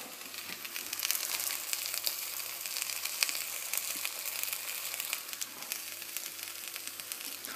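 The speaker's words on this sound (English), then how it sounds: "So right now, I'm frying kangaroo burgers." Kangaroo burgers fry in a pan with a steady, close crackling sizzle and scattered spitting pops, running continuously with no talking.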